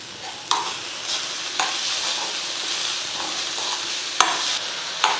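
Black nightshade greens simmer in a pan over a lowered flame, a steady soft sizzle broken by several sharp scrapes and clicks of stirring spaced a second or more apart, close and moderately loud with no talk.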